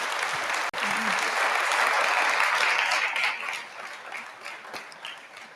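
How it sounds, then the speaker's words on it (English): An audience at a WordCamp conference applauds, a dense sustained round of clapping that fades gradually toward the end, fairly loud and close. "Round of applause for the plugin team and the systems team that keeps us going."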